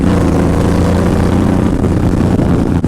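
Motorcycle engine fitted with Cobra exhaust pipes, a loud, steady low rumble running continuously and close up with no break or talk.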